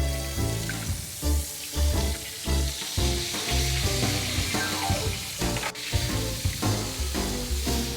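Chicken with a crispy coating fries loudly and steadily in a pan, cooking for a chicken wing-inspired burger. A continuous dense sizzle runs throughout with no voices.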